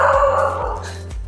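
A dog barks during a French morning stretching routine indoors, with about three sharp barks at a steady rhythm heard close and fairly loud, set over a sustained background tone.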